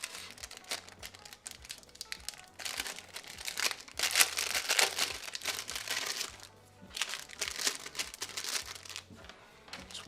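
Crinkling plastic packaging being torn open around keychain zipper pulls, bursts of close crackle and rustle with a short pause midway, no talking.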